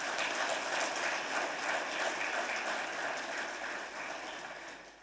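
Sustained applause from an audience at the launch of a savings and loans company: loud, dense clapping that holds steady for several seconds, then begins to fade toward the end.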